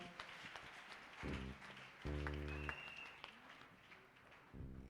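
A church congregation claps and acclaims God during a worship service. Faint, continuous clapping blends with sustained keyboard chords that swell and fade in short bursts, heard from a distance.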